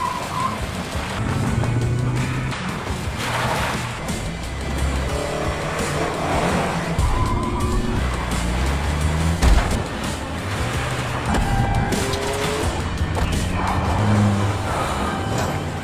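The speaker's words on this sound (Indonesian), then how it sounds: "Semua mobil bergerak cepat." Racing cars speed through a race, with engines roaring and revving as they pass, tires squealing at times, making a continuous loud mix of passing vehicles.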